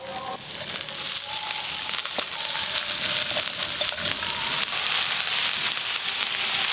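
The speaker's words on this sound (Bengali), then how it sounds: "এবার কেটে ধুয়ে রাখা শাকগুলো দিয়ে দেবো" Freshly washed chopped greens hit a pan of frying onion and dried chilli, setting off a continuous bright sizzle that grows slightly louder over the seconds, with no voices.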